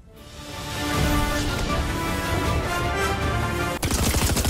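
Rapid gunfire in the video game Fortnite, a loud sustained burst of automatic shots that builds within the first second and runs steadily, ending with a sharp crack and a fresh rattling volley near the end, with no voices.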